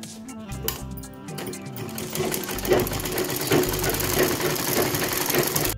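Electric sewing machine stitching a blouse seam in steady fast bursts, its rapid mechanical whir and needle clatter close and clear, with someone speaking softly around it.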